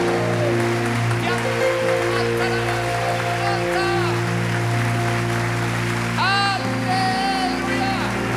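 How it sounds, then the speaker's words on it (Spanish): A church congregation applauds at a celebration-of-life service in River Arena, a dense, sustained patter of many hands under steady musical tones, with some talk mixed in. "Ese aplauso para que lo escuche Juan Carlos ahora mismo desde las puertas del cielo"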